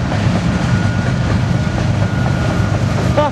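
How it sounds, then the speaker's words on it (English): A long eastbound BNSF double grain train hauled by engine 5782 passes near in Spokane Valley, Washington, its grain cars producing a loud, steady rumble with rhythmic clickety-clack of wheels on rail joints and a brief voice at the very end. "Lori, it's a double grain train."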